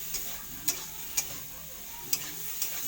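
Eggplant stir-fries in a spice masala, a soft low sizzle punctuated by five sharp spatula taps against the pan, no talking.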